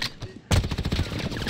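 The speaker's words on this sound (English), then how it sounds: "One gunshot from behind." Gunfire in the video game Call of Duty Warzone: after a brief lull, a close, loud burst of rapid shots cracks out in quick succession over low background game noise.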